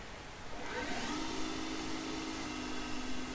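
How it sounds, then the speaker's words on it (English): A small CNC lathe cuts a back chamfer on a metal part, a steady close machining whine with a rising tone settling into a constant hum, no voices. "There's the back chamfer being cut."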